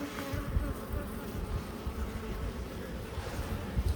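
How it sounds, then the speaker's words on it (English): Honeybees hum in a steady, dense buzz around an opened Anel hive being split, a close and continuous drone with no talk over it. "Those bees are awful calm over there."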